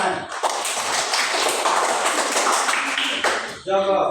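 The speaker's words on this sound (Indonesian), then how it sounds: "Tepuk tangan." A group of children claps in a classroom exercise lesson, a dense, steady patter of many hands that runs for about three seconds, then stops as a voice speaks.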